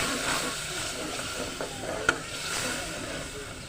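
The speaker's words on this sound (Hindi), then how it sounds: "यहाँ पे देखें जी मसाला हो रहा है फ्राई" Masala with tamarind juice frying in a pan, a soft continuous sizzle with a few light scrapes of stirring and one sharp clink partway through.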